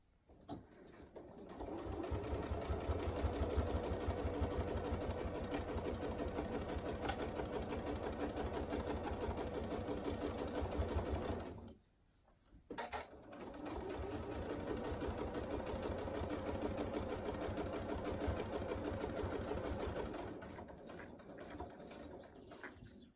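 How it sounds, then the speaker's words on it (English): A domestic sewing machine stitches trim onto a fabric tool wrap in two long, steady runs of rapid rhythmic whirring, separated by a brief pause, close and fairly quiet. "we're going to stitch on the trim opposite side to the top stitching we've already done"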